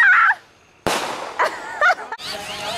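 Fireworks go off at a lake in a quick series of sharp pops and crackling bursts, loud and close, with brief gaps and rustle between them.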